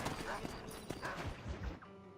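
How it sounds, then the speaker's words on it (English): Rhythmic clip-clop of horse hooves trotting close by in the video game Red Dead Redemption, with speech over the top, the footsteps fading toward the end. "Can I ride my horse into Bonnie's house?"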